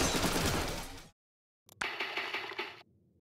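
Rapid blaster fire from a Splatoon 3 Side Order game, a dense loud burst that stops abruptly, then after a short silence a sharp hit and another fast run of shots that fades into a low tail.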